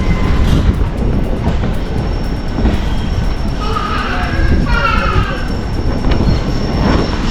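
Sirpur Kagaznagar–Bodhan passenger train pulling into Karimnagar station, heavy close rolling rumble with clanking wagons and a few squealing wheel screeches in the middle, continuous throughout.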